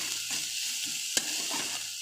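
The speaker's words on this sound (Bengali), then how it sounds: "মশলাটা আমার ভাজা ভাজা হয়ে এসছে।" Spices with turmeric, salt and a pinch of sugar fry in a pan with chopped tomato, giving a steady close sizzle with soft stirring scrapes and one sharp clink near the middle.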